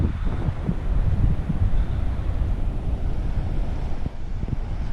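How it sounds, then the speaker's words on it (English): Ocean surf breaking on the beach beside the dunes at Ocracoke Campground, a steady close roar with heavy wind buffeting throughout, no talking. "You can hear the waves."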